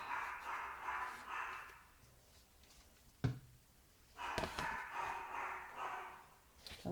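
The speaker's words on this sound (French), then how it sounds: "Mon chien qui est en train d'aboyer comme un malade." A pet dog barks wildly in a home where a craft album is being glued, with two sustained bursts of rapid, fairly close barking separated by a quieter pause and a single sharp knock.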